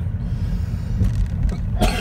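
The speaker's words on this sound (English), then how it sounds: "I think my cough's coming back" A single cough bursts out near the end, heard over a steady low rumble of a car interior during a driving lesson.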